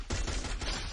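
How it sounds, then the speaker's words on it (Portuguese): Gunfire bursts in the Free Fire mobile battle royale game, a rapid, dense volley of shots striking the player from close range, loud and continuous through the second with a brief lull midway. "Ih, tomei tiro da direita"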